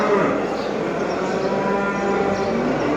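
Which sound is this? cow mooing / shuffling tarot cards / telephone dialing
cow mooing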